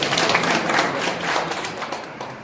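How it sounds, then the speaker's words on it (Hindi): An audience at a UCO Bank customer meet carnival in Sultanpur claps to welcome a guest, a brief steady patter of applause from a crowd. "ताली बजाकर स्वागत करें।"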